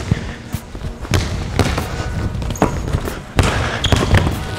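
A basketball banging off the backboard and bouncing during a shooting workout in Nike KD 16 shoes, several sharp thuds and bounces at moderate distance amid room echo.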